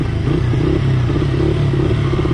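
A motorcycle engine idles close by with a loud, steady low rumble and a faint mechanical rattle, with no talking over it.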